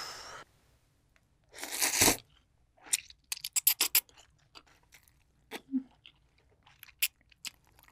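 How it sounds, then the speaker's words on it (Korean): Black tiger shrimp eaten with ramen, heard up close as scattered crunchy bites, tearing and wet chewing clicks, separated by quiet gaps. "블랙 타이거 새우를 라면에 넣어서 이렇게 먹어보겠습니다."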